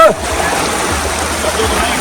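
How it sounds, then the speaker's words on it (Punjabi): Fast-flowing water rushes and splashes in a loud, continuous roar close by, with a voice briefly heard over it. "ਪਾਣੀ ਬਹੁਤ ਤੇਜ਼ ਹੈ ਜੀ ਦੇਖੋ"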